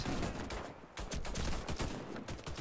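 Shotgun fire in the video game Warface comes as a rapid cluster of loud, close blasts over about two seconds, with a short pause between bursts.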